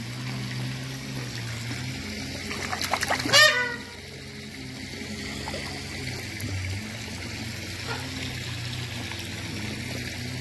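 Fish splash at the surface of an 18,000-litre garden pond as they are fed, a short cluster of splashes rising briefly above the steady trickle and hum of moving water.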